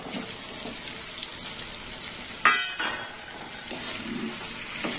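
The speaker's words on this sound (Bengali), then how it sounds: "দিয়ে দিলাম ভেজে রাখা আলু চিংড়ি মাছ" Fried potatoes and prawns drop into a pan of hot oil and spices for prawn malai curry, giving a steady, fairly quiet sizzle with a sharp burst of crackling midway and a few soft stirring knocks.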